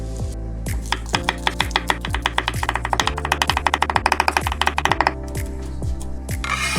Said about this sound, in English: Finely chop an onion.